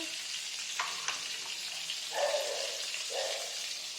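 Ingredients frying crisp in a pan, a soft steady sizzle with a few light clicks and two brief louder crackling bursts, fairly quiet and without talk.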